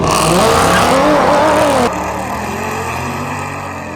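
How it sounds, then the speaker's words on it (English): A dual pulley Audi S4 races a Roush Supercharged Mustang, loud engines revving hard with rising pitch, then an abrupt drop to a lower, steadier engine roar as the run continues. "we're going against the Roush Supercharged Mustang on this one"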